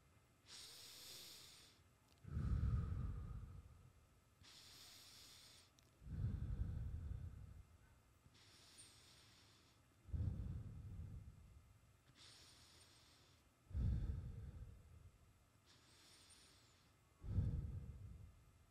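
Slow, deep belly breathing in a meditation exercise, with five long breath cycles: each is a soft hissing inhale followed by a louder, fuller exhale. The breaths come close and alone, with no talk.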